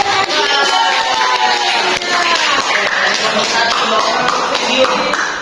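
Students clap together in a classroom, a dense, steady burst of applause that carries loudly and evenly from start to finish with no pauses.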